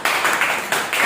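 A group of schoolchildren clap together in a class, giving a few quick rhythmic bursts of claps close by, with short gaps between them.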